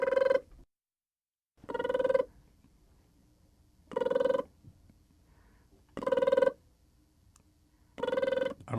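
A telephone rings on a call to a brother in Florida, five evenly spaced rings about two seconds apart with silence between them and no talking.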